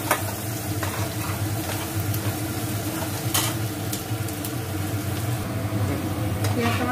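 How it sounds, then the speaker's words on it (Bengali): Chopped onions fry lightly in a pan for a Bengali eggplant dish, giving a steady, moderate sizzle that runs throughout over a soft, sustained tonal backdrop. "পেঁয়াজ কুচিটা একটু হালকা করে ভেজে নেওয়ার পর"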